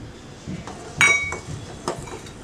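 A metal spoon clinks against a cooking pot while green gram sprouts soup is stirred, one bright ringing strike followed by a few softer taps and scraping, close and clear.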